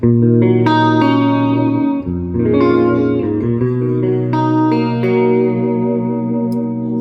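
A sustained electric guitar playing chords and notes with a bright, ringing clean tone through a Kustom KG100FX212 amplifier and a touch of effects, loud and continuous with no talking.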